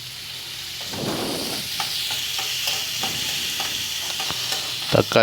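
Tomatoes sauté in a pan for Tamil Nadu-style semiya upma, a steady close sizzle broken by repeated scraping stir strokes and a louder clatter near the end, with no voices.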